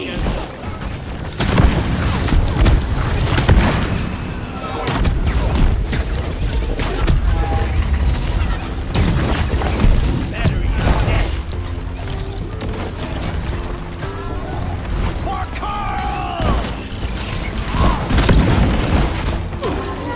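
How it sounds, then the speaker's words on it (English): A sticky grenade exploding in the video game Deep Rock Galactic, a dull boom among dense clanking, creaking mechanical game noise, with players talking over the action. "Sticky grenade!"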